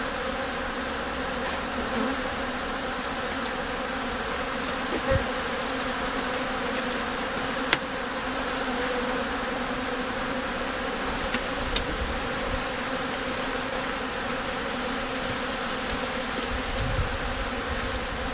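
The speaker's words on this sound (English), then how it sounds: "We now have a lot of bees here" Honey bees drone in a dense, unbroken buzz at an open beehive during an inspection in Iceland, loud and close, with no speech and only a few faint clicks.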